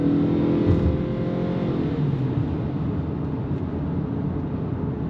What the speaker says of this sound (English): A little bit of chirp from the front tires.